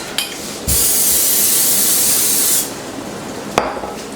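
Cooking spray hisses onto a dish before baking in one steady, close burst of about two seconds, with a brief tap before it and a short knock after.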